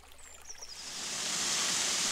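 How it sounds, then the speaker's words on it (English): Steady rushing water from a freshwater creek in the damp Sintra hills, a broad continuous wash that swells gradually louder, with a faint thin high chirp early on and no voices. "These hills effectively form a network of freshwater creeks"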